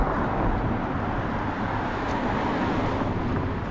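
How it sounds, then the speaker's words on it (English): Car traffic passes steadily along a busy street in Manhattan Beach, a continuous broadband roar of engines and tires at moderate distance with no clear gaps. "listen to these cars go by all day"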